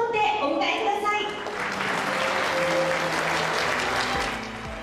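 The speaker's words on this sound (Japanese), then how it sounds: "盛大な拍手を持ってお迎えください。" An audience at a shogi event claps loudly and steadily to welcome a professional player, a dense sustained applause with a voice briefly audible at the start.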